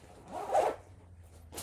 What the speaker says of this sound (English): And I do apologize for the zippers.